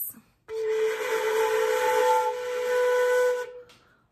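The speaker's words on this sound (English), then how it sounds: "If I play the multiphonic with my tongue dropped low in the mouth, it sounds something like this." A flute multiphonic played with the tongue dropped low in the mouth, sounding as one sustained, steady breathy chord with a strong low partial and stacked overtones. It holds for about three seconds, close up and alone.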